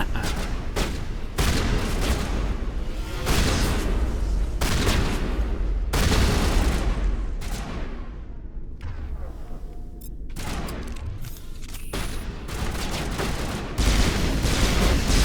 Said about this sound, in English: Get my shotgun out.